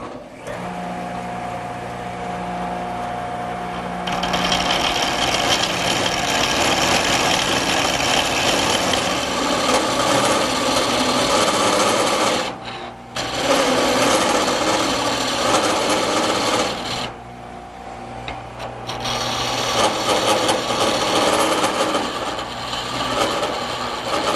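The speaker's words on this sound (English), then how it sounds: "what I'm going to do is use a gouge on the tool rest" A wood lathe spins a table-leg blank while a gouge rests on the tool rest and cuts, giving a loud, steady whirring scrape that drops out briefly twice as the cut pauses, then resumes.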